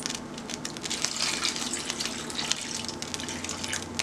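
Water runs from a tap into a cooking pot, a steady gushing splash that stays fairly close and constant for a few seconds. No one speaks over it.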